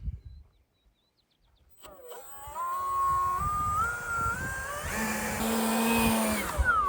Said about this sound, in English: I really like this blower